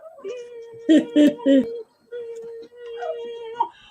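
A kitten meows several times in quick succession, close and clear, followed by longer drawn-out mews, with someone speaking affectionately nearby between the cries.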